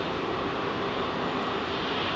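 Jet airliner engines roar steadily at Heathrow on a foggy day, a dense, continuous spool-up held loud throughout with no voices.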